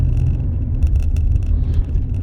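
A car engine rumbles steadily up close, a continuous low drone with slight surges in intensity, no voices over it.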